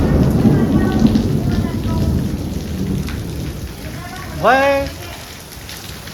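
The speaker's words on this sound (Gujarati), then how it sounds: "કડાકા ને ભડાકા સાથે વરસાદ ચાલુ થઈ ગયો છે" Heavy monsoon rain pours steadily with deep rolling thunder rumbling underneath, while someone speaks briefly over the downpour at close range.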